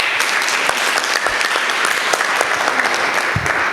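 Sustained, even applause from a meeting audience of Rwanda Leather Value Chain Association members fills the room, dense and steady from start to finish with only faint hints of voices.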